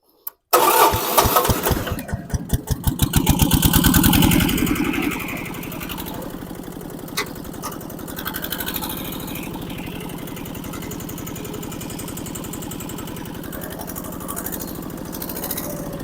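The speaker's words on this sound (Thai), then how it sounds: "ต้องติดเครื่องดูก่อน" A multipurpose articulated farm vehicle's diesel engine cranks and catches, revs loudly for a few seconds, then settles into a steady, rattling idle that runs on at close range.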